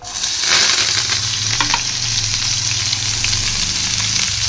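Onions and curry leaves with cumin frying in oil on low gas, a loud, dense, continuous sizzle and crackle with a brief stir partway through and no speech.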